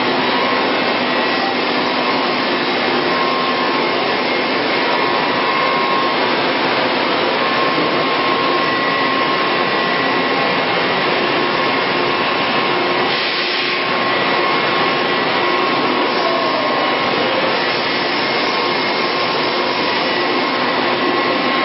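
A 1998 Citizen L20 CNC Swiss lathe fitted with a mist buster runs close by, giving a loud, continuous whooshing roar with no pauses.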